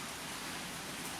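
Heavy rain pours down outside, a dense, steady, loud hiss with no pauses and no voices.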